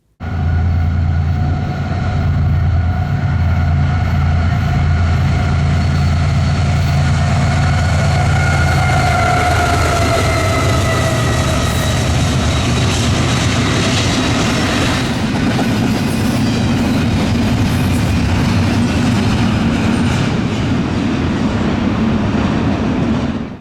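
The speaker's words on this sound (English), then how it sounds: "The first train we saw was NS-29P with a BNSF leader" Norfolk Southern freight train 29P, led by a BNSF locomotive, passes close by on a Chicago-line main track: a loud engine drone with a long horn at first, then the steady rumble and clatter of freight cars rolling past.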